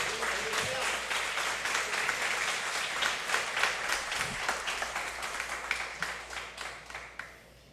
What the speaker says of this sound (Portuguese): glorifique a Ele, aplauda Ele forte